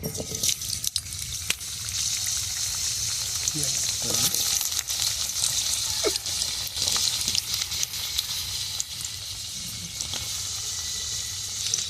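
Long-cut potato pieces fry in mustard oil in a wok with a steady hiss and crackle. Occasional clicks and scrapes from stirring break in, and a voice speaks faintly in places.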